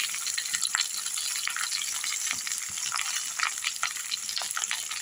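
Fried vegetables for Bengali shukto are stirred in a kadai, giving a steady close sizzle and hiss broken by scraping spatula strokes and light rattles, with no talk.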